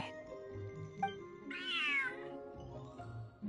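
A cat meows in the video game Genshin Impact, one drawn-out, falling meow in the middle of a soft game soundtrack, with a few fainter chirps around it.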